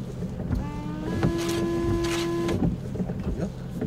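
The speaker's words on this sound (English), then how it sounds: "I'm going to try and wash the windscreen." A car's windscreen washer pump whirs with a steady tonal hum while wipers sweep across the glass in a couple of soft strokes, heard inside the car with people talking over it.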